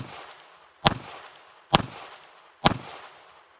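A handgun fires three sharp shots at a target outdoors at an even pace, each loud crack trailing off in a brief echo, with no talking.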